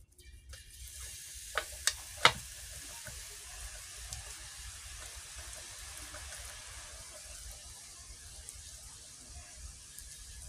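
Onions and spice tempering sizzle steadily in oil in a frying pan, a soft continuous hiss with a few sharp crackles early on, staying low and even throughout.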